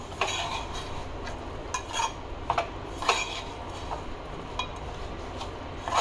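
A spatula stirs and scrapes around a pan as chillies are sautéed with crushed peanuts and coriander, giving steady close scraping with scattered light clinks over a constant low background, without talk.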